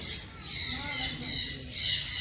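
A parrot squawks at Junagadh Zoo (Sakkarbaug) in repeated harsh calls spaced about half a second apart, fairly faint, with light background noise.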